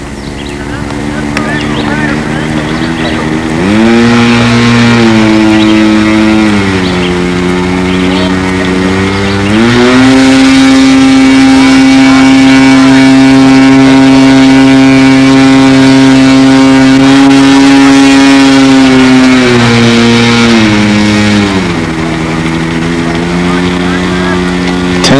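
A giant scale model airplane engine with electronic throttle runs up at a windy 1998 Brodak fly-in. It roars loud and close, stepping up in pitch twice and holding a steady high-revving drone, with no other engines running.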